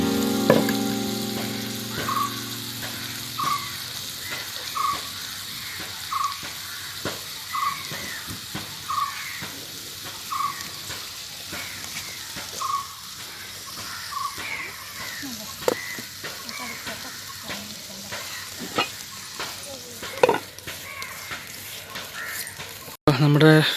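Karimeen fish shallow-fries in oil with a steady, close sizzle and occasional spatter. Faint, regular chirping sits in the background, and speech is heard intermittently.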